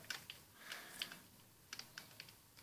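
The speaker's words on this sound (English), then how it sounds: "as you can hear clicking in the background" A computer keyboard and mouse click quietly and irregularly during a Minecraft session, with scattered single taps and small clusters of keystrokes against a near-silent background.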